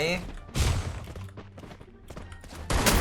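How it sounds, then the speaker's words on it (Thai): Bursts of Free Fire video game gunfire, several sharp loud shots and a volley near the end, with a voice talking over the action. "ยิงจากบนบ้าน"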